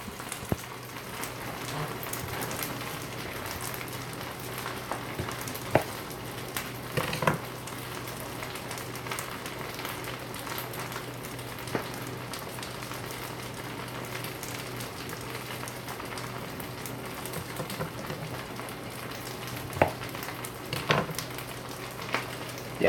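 Food sizzling and caramelizing in a pan, a steady crackling hiss of frying with scattered pops and occasional louder clatters, continuous and moderately close.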